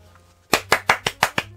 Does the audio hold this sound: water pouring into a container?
no